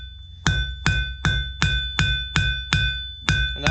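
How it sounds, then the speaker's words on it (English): Steady, evenly spaced hammer blows ring on steel as a blacksmith tapers a forged lantern handle on the anvil, about nine sharp metallic strikes, loud and close with no talk. "We're just going to taper out"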